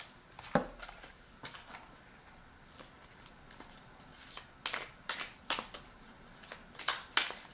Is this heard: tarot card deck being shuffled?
yes